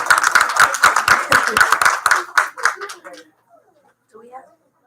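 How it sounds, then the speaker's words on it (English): Parents in an audience give a round of applause for students after a STEAM Tank challenge presentation, a lively burst of clapping with a few cheers that tapers off after about three seconds, followed by quiet and a faint voice. "Parents, can we give them another big round of applause?"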